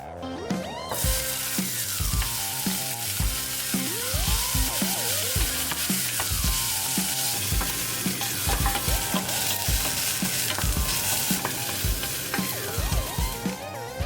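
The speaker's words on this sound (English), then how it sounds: "So we're going to start by taking a few teaspoons of olive oil and browning our onions in a saucepan." Onions brown in olive oil in a saucepan, sizzling and frying steadily for the whole stretch, with frequent stirring scrapes and clinks close by and no talking.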